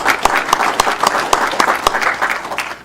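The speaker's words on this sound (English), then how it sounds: "Let's give her a big round of applause" An audience at a Federal Way city council meeting gives a short burst of applause, with close, crisp hand claps in an irregular rhythm that fill the whole moment.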